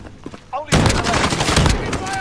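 Shotgun gunfire in Call of Duty Warzone: after a quiet moment with a faint voice, loud rapid shots erupt and continue in a dense, sustained barrage of firing close by.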